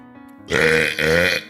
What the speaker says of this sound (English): That was a thick chocolatey burp